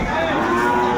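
A cow moos loudly and close at a cattle market where dairy cows and calves are sold, one sustained low lowing call filling the moment.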